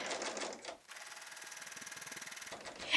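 A serger sewing machine stitches a placemat with cream thread, giving a steady fast mechanical whir with a rapid even pulse and a brief pause near the start, close up with no talking.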